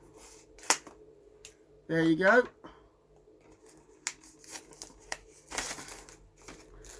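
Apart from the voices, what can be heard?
scissors cutting plastic wrap off DVD boxset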